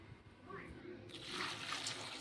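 Cold water splashes into a vessel holding taro stolons for washing, a soft rushing pour that swells after the first second and continues to the end, with quiet speech underneath.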